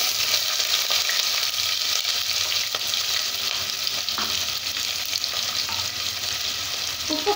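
Onions, green chillies and curry leaves fry in a pan for mushroom kurma, giving a loud, steady, close sizzle with occasional stirring scrapes and no talk.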